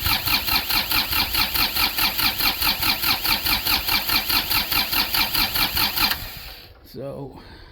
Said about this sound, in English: see if this tractor will start.